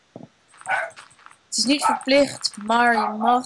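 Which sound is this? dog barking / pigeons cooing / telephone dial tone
dog barking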